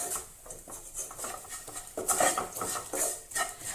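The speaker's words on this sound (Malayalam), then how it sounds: "ചേർത്തിട്ട് അതും കൂടി ഒന്ന് വഴറ്റി കൊടുക്കുകയാണ്." A spoon scrapes and clatters against a pan while chili powder and turmeric are sautéed, giving a run of uneven metallic scrapes and knocks with no voices.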